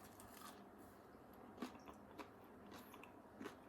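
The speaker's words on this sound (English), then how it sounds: "Can you hear me crunching?" Soft, close crunching bites of a crispy bran muffin with raisins, a few separate crunches spaced irregularly over a quiet background.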